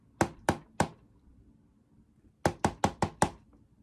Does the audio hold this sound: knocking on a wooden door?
yes